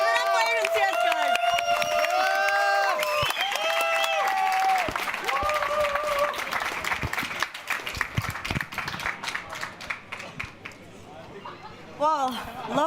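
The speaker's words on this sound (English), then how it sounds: "love the vibes and the crowd is hyped" An arena crowd at a Counter-Strike esports semi-final cheers and claps with energy, loud at first and then easing into scattered applause, while people talk over it.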